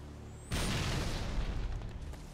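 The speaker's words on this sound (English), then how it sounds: "Let's grenade it down." A grenade blast in Halo: one sudden deep boom that lands hard and rolls on in a rumbling, crackling tail for about two seconds, fairly quiet overall.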